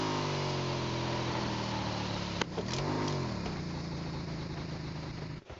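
A motorbike engine in the mobile battle royale game BGMI drones steadily on its own, its pitch dipping and then climbing back midway, with a small click before the sound fades at the end.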